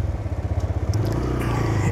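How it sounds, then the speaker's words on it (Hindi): A TVS Raider motorcycle exhaust burbles loudly while riding, a rapid steady low thumping pulse that rises into a denser drone, with wind noise on top. "इसका एग्जॉस्ट साउंड सबसे डिफरेंट है"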